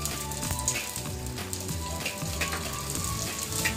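Onion, garlic and ginger sauté in a little reheated oil in a frying pan, giving a dense rain-like sizzle with a steady low rumbling beneath.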